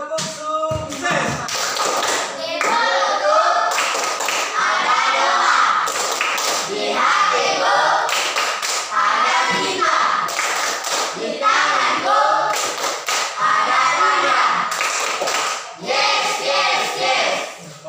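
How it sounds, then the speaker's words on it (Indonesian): A classroom group performs a rhythmic 'tepuk sukses' clap, sharp patterned hand claps repeating in bursts across the room with a voice leading between rounds. "Coba tes. Tepuk sukses."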